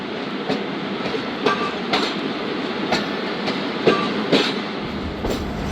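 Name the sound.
passing train on the Zakariya Express journey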